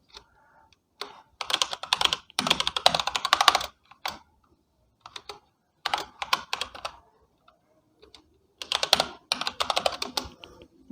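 Bursts of quick clicking keystrokes on a computer keyboard while details are entered into a software installer, coming in three clusters separated by short pauses, close and fairly crisp with no talking.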